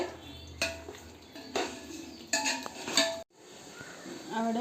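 Chicken biryani masala mixed with yogurt in a pot: a series of metal spoon scrapes and clanks against the pot, close, ending in a brief pause, then a softer rattle.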